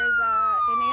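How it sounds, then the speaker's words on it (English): A wailing ambulance siren sounds from a vehicle driving along a winter road, one sustained loud tone gliding slowly downward as it passes, with traffic noise faintly underneath. "you can see there is an ambulance driving through"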